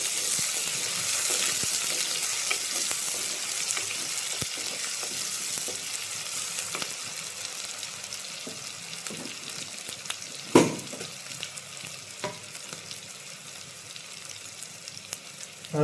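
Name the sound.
stirring cabbage and crushed garlic frying in a pan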